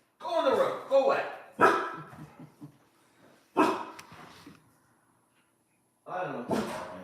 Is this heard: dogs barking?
yes